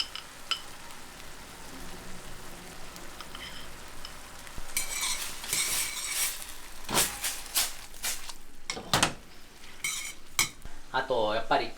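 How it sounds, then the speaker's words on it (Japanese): Fried guanciale is tipped back into a pan for carbonara. A quiet background gives way to bursts of scraping, clattering and light sizzling as a utensil stirs, with sharp metallic knocks near the end. "それでは炒めてたワンチャーレ戻して"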